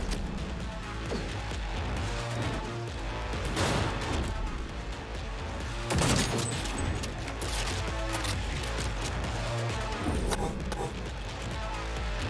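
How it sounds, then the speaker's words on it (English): Gunfire rattles through a Cyberpunk 2077 firefight in dense bursts and sharp impacts, with a loud crack around the middle, mixed with game noise and someone talking over it. "I'm trying to shoot her in the leg."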